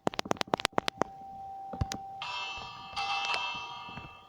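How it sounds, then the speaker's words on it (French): Small chiming bells ring in a Minecraft-style video game build, a quick run of bright, closely spaced strikes followed by sustained ringing tones that layer and overlap. "Après il y a les petites cloches."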